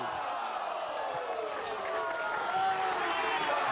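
Wrestling crowd at a live match cheering and applauding steadily throughout, a dense roar of clapping and voices that swells slightly near the end.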